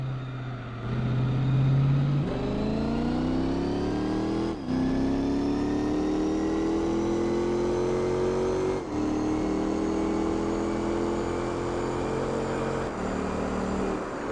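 Race car engine in Gran Turismo 4 on a final lap, loud and close, revving steadily upward through the gears with sharp drops at each of several shifts, no talking.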